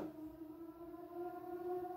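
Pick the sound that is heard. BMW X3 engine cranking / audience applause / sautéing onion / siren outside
siren outside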